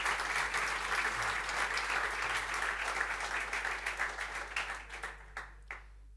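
Audience applause at a literature-and-football event, dense and sustained clapping from a crowd that thins into scattered individual claps and fades out near the end.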